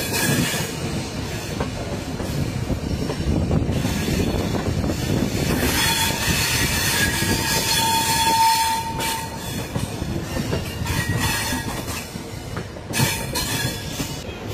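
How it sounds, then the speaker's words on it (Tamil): The Gol Gumbaz Express pulls out of Mysuru Junction with a loud, steady rumble of wheels and carriages, a long horn blast sounding midway and metallic wheel squeal rising over the clatter. "ஷார்ப்பா ஆன் டைம் நம்ம மைசூர் ஜங்ஷன்ல இருந்து கிளம்பியாச்சு."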